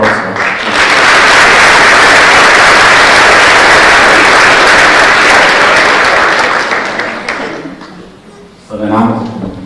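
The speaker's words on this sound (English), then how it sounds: "So can we just give a round of applause for Sylvia Orozco?" Audience at a teacher scholarship recognition ceremony applauds loudly and continuously for several seconds, the clapping fading before a speaker's voice resumes at the end.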